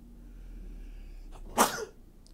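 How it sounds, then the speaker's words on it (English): A single sharp human sneeze bursts out after a quiet intake of breath, close and brief, then fades into faint room noise. "I'm going to sneeze again."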